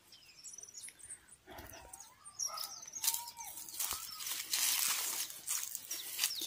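Small birds chirp in a backyard with mango trees, thin high tweets and short calls coming and going at a distance, fairly faint against outdoor ambience.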